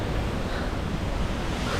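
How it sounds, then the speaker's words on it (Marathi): Randha waterfall at Bhandardara rushing hard with muddy water after monsoon rain, a dense, unbroken roar buffeted by wind noise on the microphone, loud and constant throughout. "आता किती जोरात पाणी होतं बघा"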